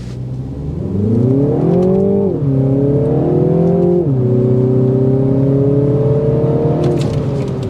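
A 2024 Mini Cooper S hardtop's 189-horsepower engine turns over and climbs through two strong revs, settling to a steady, loud idle between them, heard close with no talking.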